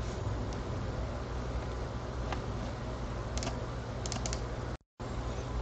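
Computer keyboard keys tapped while typing CSS code, a quiet, steady run of soft clicks over low background hiss, with a brief dropout near the end.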